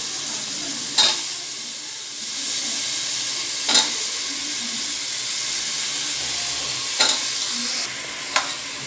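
Vegetables are sautéed in a pan with softened onion and tomato for a kara kuzhambu, giving a steady sizzle and hiss. A few sharp stirring clinks mark it at intervals. No one speaks.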